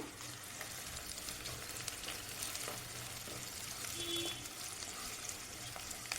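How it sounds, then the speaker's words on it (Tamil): Onions and curry leaves sizzle steadily in hot oil in a pan, a continuous crackling fry with occasional stirring scrapes, heard close and alone. "கருவேப்பிலை, வெங்காயம் போட்டு இந்த மாதிரி நல்லா கோல்டு கலரில் வந்து வெங்காயம் நல்லா ரோஸ்ட் ஆகி வரும்போது"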